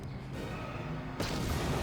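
A grenade blast in the video game Star Wars KOTOR 2 booms loudly about a second in, following a low rumbling lead-in and leaving a dense, sustained roar.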